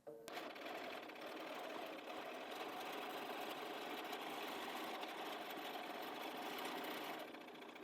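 A sewing machine runs a straight stitch at stitch length 3.0 while quilting a cushion, giving a steady, close mechanical whir with a fast rhythmic needle chatter that holds for several seconds and stops near the end.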